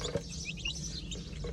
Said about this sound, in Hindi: वो चूजा।